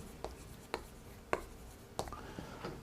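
Marker or chalk strokes on a board during a Korean civil law lecture, five or six short, distinct scratchy taps spaced irregularly and fairly close, heard alone without talk.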